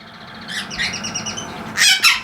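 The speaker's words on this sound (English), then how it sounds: "finches are singing, parakeets are hanging out" Indoor pet finches and parakeets: a run of quick chirps and whistled notes followed by louder squawky bursts near the end, close by, with no talking.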